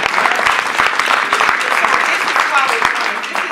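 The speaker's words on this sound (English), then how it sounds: "Y'all can clap for that." Crowd applause at a gathering, dense and steady clapping throughout with a few sharper claps standing out near the front.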